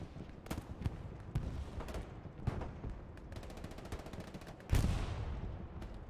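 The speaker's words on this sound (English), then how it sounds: "Nice work on the machine gun there from the driver of the tank" Tank-mounted machine gun firing in the Hell Let Loose game, heard as several rapid bursts of sharp cracking shots, with one fast dense run of rounds and a heavier boom near the end, fairly loud and close.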